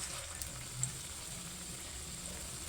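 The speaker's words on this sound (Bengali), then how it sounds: "এটাকে বেসনে ডুবিয়ে পরে এবার এটাকে তেলে দিয়ে দেবো" Gram-flour battered pieces fry in hot oil with a faint, even sizzling hiss that holds steady throughout, with one small pop and no talking.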